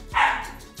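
A single sharp dog bark, loud and close, followed by a brief quieter trailing sound.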